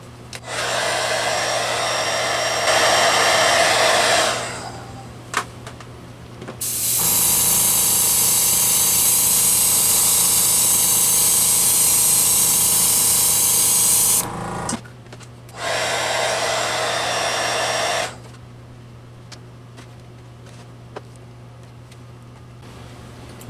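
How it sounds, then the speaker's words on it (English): A hair dryer blasts steady, loud air at airbrushed acrylic hobby paint on an unprimed surface, running in three separate bursts, the longest about seven seconds, with brief quiet gaps and faint handling clatter between them. "We're going to dry it with a hair dryer."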